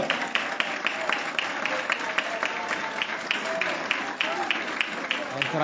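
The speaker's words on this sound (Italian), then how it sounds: "grande applauso a Agodirin" Steady applause ripples through the stands for a substituted player at a Nardò versus Potenza football match, a dense patter of clapping with crowd murmur that holds evenly throughout.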